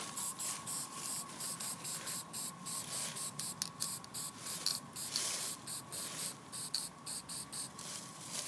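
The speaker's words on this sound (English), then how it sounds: "So I'm going to go over lightly with this spray paint" Spray paint from an aerosol can hisses in a rapid series of short bursts onto a duck decoy being painted as a redhead, loud and close, with no talking.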